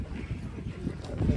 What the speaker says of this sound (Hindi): तो क्या बढ़िया हवा चल रही है।